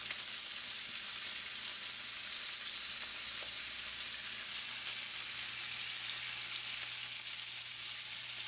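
Shrimp fry in a hot pan with a steady, dense sizzle that stays bright and even throughout, without any talking over it.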